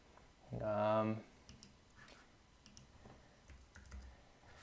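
Computer keyboard typing an email address, soft scattered clicks at close range after a brief tonal hum, quiet under light room noise.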